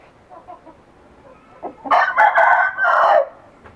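Aseel chickens on a farm near Islamabad, with a few soft clucks followed by a loud, close rooster crow in two long drawn-out bursts.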